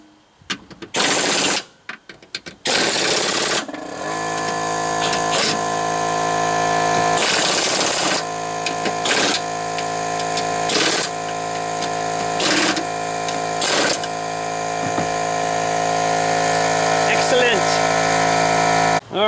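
A power tool whirs steadily for long stretches while tightening a bolt on a riding mower deck, broken by a few short bursts and gaps near the start.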